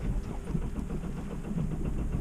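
An engine is cranked over, producing faint, low, rhythmic chugging pulses that repeat evenly as the motor turns without clearly catching.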